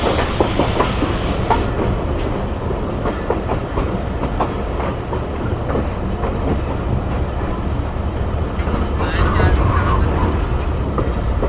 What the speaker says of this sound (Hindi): थोड़ा सा स्लो हो गई है जाफर एक्सप्रेस